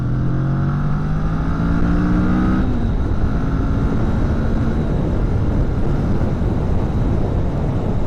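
A Kawasaki Vulcan 650S motorcycle engine drones steadily while riding, with constant loud wind and road rumble and a rising engine tone that gradually fades into the rush.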